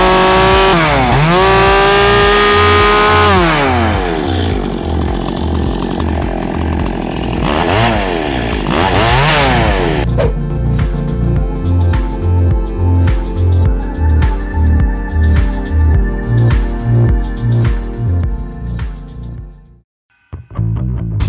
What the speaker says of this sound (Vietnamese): Các bạn có thể thấy được ngay bên cạnh tôi đây là một chiếc cưa.